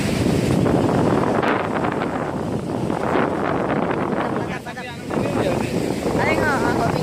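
Strong wind buffets the microphone on Kasap beach in Pacitan, a wide stretch of white sand, with a steady rush of surf beneath it and faint voices now and then.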